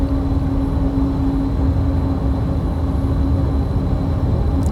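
Lockheed C-130 turboprop engines roaring steadily during a rolling takeoff in the X-Plane 12 flight simulator, a loud continuous drone with a sustained tonal hum and no talk.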